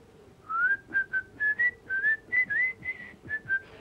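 A person whistles a tune along to a Dutch song, about a dozen clear, bright melodic notes in a lilting rhythm, close and distinct over quiet background.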